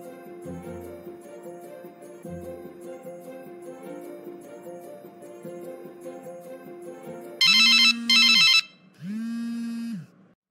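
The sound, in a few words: telephone ringing before a call is answered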